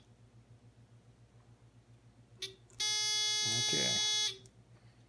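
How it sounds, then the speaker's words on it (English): A continuity checker on electrical wiring for LED lights sounds a loud, steady electronic buzz lasting about a second and a half, close up, after a short chirp, with a brief spoken word overlapping. "Continuity checker, just a buzzer."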